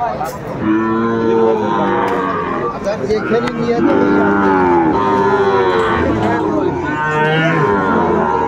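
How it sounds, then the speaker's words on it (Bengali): A six-month-old Sahiwal bull calf and other cattle at the Aftabganj market moo in repeated drawn-out, close calls over a continuous crowd murmur, with voices talking throughout. "শাহিওয়ালের ষাঁড় বাচ্চা দেখছিলাম এখানে"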